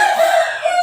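A rooster crows once, loud and close, a drawn-out strained call that holds steady and rises again at the end.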